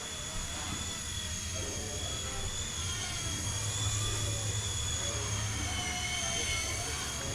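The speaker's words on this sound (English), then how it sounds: "You can kind of hear the motor laboring when I do tight maneuvers and I apply significantly more power." Blade Nano S3 micro drone flying indoors, its motors giving a thin, steady high-pitched whine with a faint low hum beneath, straining slightly as power rises during tight turns.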